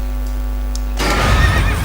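A horse whinnies loudly in the fantasy online game Drakensang Online, a bright shrill neigh bursting out over a steady electronic hum and ambient game tones, with no one talking.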